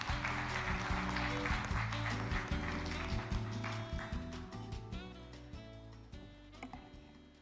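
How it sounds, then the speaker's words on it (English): An audience applauds at the closing ceremony of the World Bio Summit 2025, a broad steady clapping mixed under loud stage music that gradually fades over the clip. "Please welcome her with a big round of applause."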